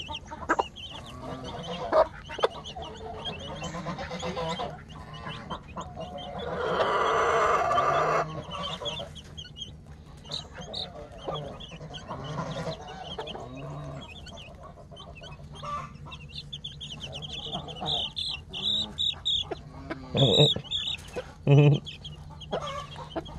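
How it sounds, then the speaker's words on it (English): Chickens on a farm being fed mealworms cluck and call on and off for the whole stretch, at moderate to faint level against a busy outdoor background, with sharper calls near the end. "Yes, chickens."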